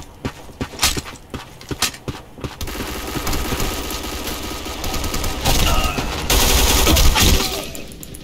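Sustained automatic gunfire with heavy recoil from a weapon in the shooter game Black Squad: scattered single shots first, then a long, loud, continuous rattling burst that grows denser toward the end.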